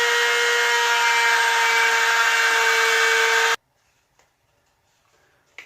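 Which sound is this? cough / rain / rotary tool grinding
rotary tool grinding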